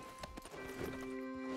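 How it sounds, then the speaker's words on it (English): Horse hooves clip-clopping in Red Dead Redemption 2, a few soft uneven footfalls at close range as the rider slows and parks the horse, set against steady game music tones. "I need to park my horse"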